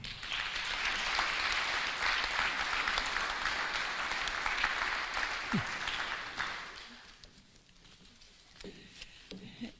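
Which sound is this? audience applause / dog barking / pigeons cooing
audience applause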